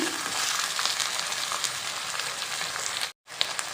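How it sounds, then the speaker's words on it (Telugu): Ivy gourd (dondakaya) pieces frying in oil in a pan, a dense close crackling sizzle with light stirring, cut by a brief dropout near the end. "ఈ దొండకాయ ముక్కలు ఇందులో వేసి ఫ్రై చేసుకుందాం కలుపుతూ ఫ్రై చేసుకోవాలి"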